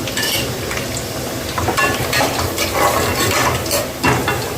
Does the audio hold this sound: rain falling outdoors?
no